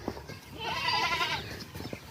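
A single drawn-out goat bleat, quavering and fairly close, lasting about a second, with faint background noise around it.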